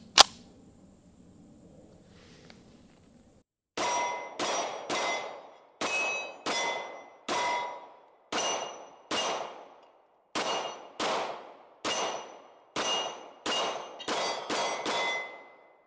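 A CZ Shadow 2 Compact pistol is fired downrange after a quiet start, giving about seventeen loud, sharp shots in quick groups, each ringing out briefly, with no talk.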